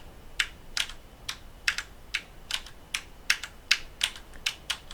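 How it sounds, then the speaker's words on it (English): Computer keyboard keys for strafing in CSGO are tapped in a steady run of about a dozen crisp, evenly spaced clicks, fairly close and quiet, with nothing else heard. "Like I'm hitting my strafe keys and I'm just letting them go."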